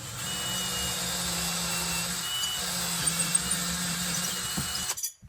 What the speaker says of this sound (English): It gives me a hole, and then my drill bit doesn't walk when I start it.